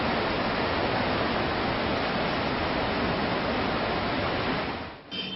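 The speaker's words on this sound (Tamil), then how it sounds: "இந்த நீர்வீழ்ச்சி 2 அடுக்காக 200 மீட்டர் உயரத்திலிருந்து பெடி ஆற்றில் விழுகிறது" Magod waterfall in Uttara Kannada, Karnataka, dropping 200 metres in two tiers into the Bedti river, roars as a dense, steady wash of water, loud and constant before a brief dip near the end.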